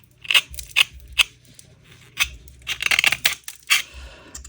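Scissors snip excess material from a resincrete dog figure in short, crisp cuts close to the mic, several separate snips followed by a quicker cluster of cutting and rustling.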